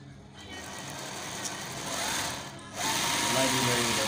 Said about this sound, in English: let me make a straight line sewing